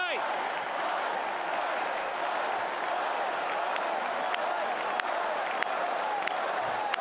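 Steady clapping fills the mix, loud and dense, with scattered sharper claps close to the microphone and voices beneath, at a speech to the Republican National Convention.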